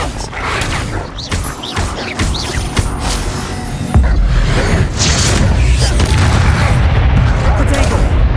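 Expelliarmus disarming spell cast in the Hogwarts Legacy video game, a sharp magical boom that opens into a loud, sustained rumbling crackle, following earlier bursts of spell and combat effects.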